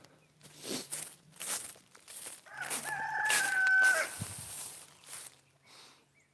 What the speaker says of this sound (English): So that's the thing about roosters. They're loud.